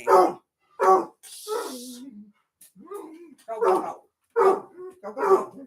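A Basset hound bays and barks loudly in a few separate outbursts with whining between them, indoors at close range, while a person excitedly repeats a short phrase between the barks.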